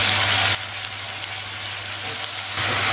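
Eggplant and lentils sautéing in oil in a pan for kathirikai kadayal, a steady close sizzle and hiss that drops quieter for a stretch in the middle before rising again.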